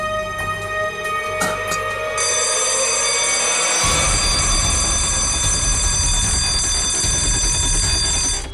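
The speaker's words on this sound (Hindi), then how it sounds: "अलार्म की आवाज आई" Alarm in a house sounds loudly and continuously, a shrill ringing, bell-like tone that swells into a fuller, harsher blare partway through and holds to the end, with no voices.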